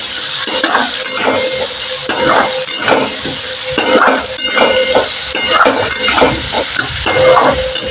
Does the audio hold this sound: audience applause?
no